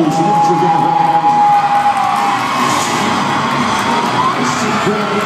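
A big arena crowd cheers and whoops loudly and continuously at a Monster Jam dirt bike show, a dense roar of shouting voices with a thin whistle-like tone riding above it for several seconds.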